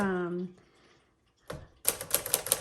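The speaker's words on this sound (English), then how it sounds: "This is an A+ typewriter." A 1951 Smith Corona Sterling manual typewriter clacks out a short run of quick, crisp keystrokes, close and clear, right after a brief spoken voice.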